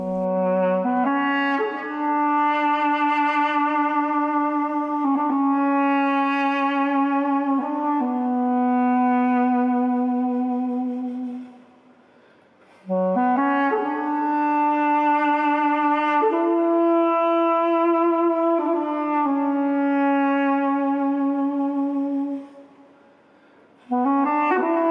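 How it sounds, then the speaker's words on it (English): An Armenian duduk, the apricot-wood double reed wind instrument, plays a slow, mournful melody of long, reedy, sustained notes in two phrases separated by a short breath, solo and close. "This is the sound of the ancient Duduk."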